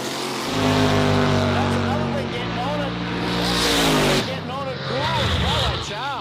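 A VK Commodore drag car with a stout red motor accelerates hard down the Quick Street strip, its loud engine climbing through rising gear pulls and then shifting, with a commentator talking over it.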